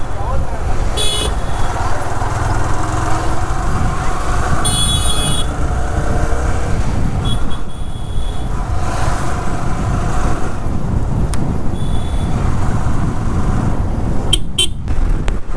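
Busy city road traffic heard from a motorcycle: a constant engine and wind rumble with several short car horn toots scattered through, some close and sharp.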